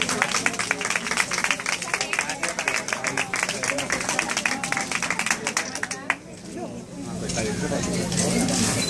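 Audience applause for Zuleyka Rivera, Miss Universe 2006, at a Walgreens event: dense, steady clapping from a crowd for about six seconds, then dropping away to a quieter hum of room noise.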